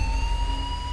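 A British-style ambulance siren in GTA V sounds as a brief, steady high tone held close and loud over a low vehicle rumble.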